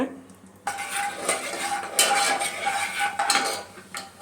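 Whole spices dropped into hot oil for a fenugreek-leaf and green pea pulao, giving a sudden sizzle over clinks of a metal spoon against the pan.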